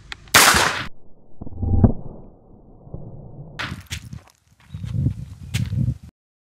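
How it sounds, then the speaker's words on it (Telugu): A battery-wired squib fires for a movie gunfire effect: one sharp, loud crack right at the start, followed by fainter scattered thumps, rustles and a few brief snaps nearby before falling silent. "సో ఇప్పుడు ఇది బ్లాస్ట్ అయిపోతుంది, చూడండి జాగ్రత్తగా."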